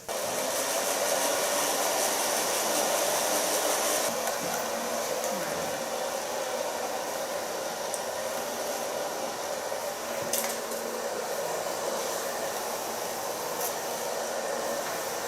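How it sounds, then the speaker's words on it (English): A hair dryer blowing on long hair during a curly autumn-winter hairstyle session gives a steady, continuous airy whoosh throughout, close and even, with faint background sound. "Now I'm gonna blow dry it"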